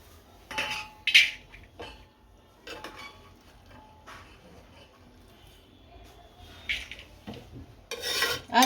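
Boiled horse gram is drained and scooped into a metal pot, with scraping and clinking of a spoon against the vessel in short, irregular bursts, some louder than others.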